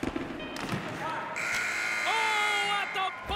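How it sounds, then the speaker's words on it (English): A long electronic horn sounds at the end of a period in the NHL 22 hockey video game, loud and sustained with steady harmonic tones, following thuds and crowd noise. "And there's the buzzer."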